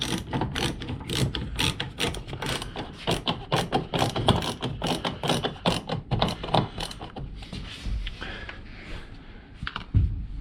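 Dense mechanical clicking and ratcheting as a screw is driven back into a Lexus CT200h front door panel, rapid close taps for most of the span, then quieter handling and one soft knock near the end.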